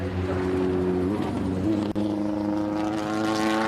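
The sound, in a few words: endurance race car missing gears at hill climb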